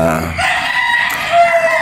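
A gamefowl rooster on a Batangas game farm crows loudly and close, one sustained cock-a-doodle-doo filling the short moment with no talk.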